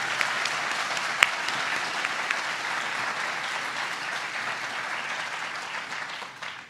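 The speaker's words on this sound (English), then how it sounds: "So let's give them, all of them," Sustained applause from an audience at a public forum on marijuana in Canada, steady and dense throughout with one sharper clap early on, fading slightly at the end.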